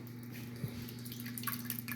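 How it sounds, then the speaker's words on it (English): Curds and whey for homemade lactose-free quark poured from an old bowl through a sieve, a soft steady trickle and drip of liquid running close by with a low hum behind it and no talk. "I'm gently going to pour this through here to separate"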